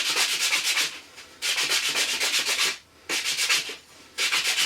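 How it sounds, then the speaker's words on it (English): Sandpaper rubs back and forth over the edges of a small wooden lure rotator part in bursts of rapid, scratchy strokes, close and clear, separated by short pauses, with no talking. "So now I'll just sand over the edges here."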